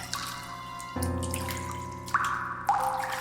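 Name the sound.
water splashing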